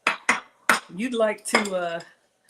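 A heavy cast iron pan is handled in a home kitchen where chicken is being cooked: three sharp metallic clanks come close together, followed by longer ringing, resonant tones.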